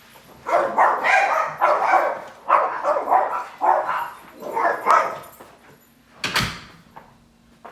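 A dog barks repeatedly in loud, evenly spaced bursts, a series of about seven barks, followed by a sharp thud like a door closing near the end.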